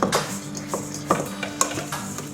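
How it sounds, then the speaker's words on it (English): A spoon works through a crumbly vegan dough for wagon wheels in a bowl, making a series of close, short scraping strokes in an uneven rhythm. "So let me just mix mine a little bit more."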